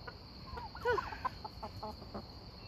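Hens cluck softly close by, a few short, irregular clucks and murmurs over a quiet background hum.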